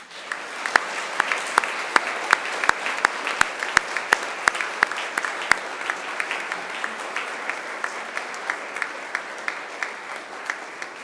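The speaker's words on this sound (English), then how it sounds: "And now it's time to give them a mighty round of applause." Graduates at a Macquarie University graduation ceremony applauding their families and friends, a broad sustained clapping from a large crowd with a few sharp, prominent individual claps standing out near the front, steady for the whole stretch.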